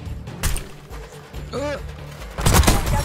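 A sniper rifle shot in a Search and Destroy video game match, one sharp report standing out over busy game noise, with a burst of further gunfire near the end and a voice talking over it.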